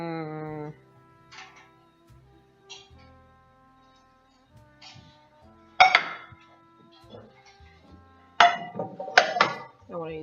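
A pan is handled in a home kitchen, giving a few scattered metallic clanks and knocks with ringing tones, close by and moderately loud, with quiet gaps between them.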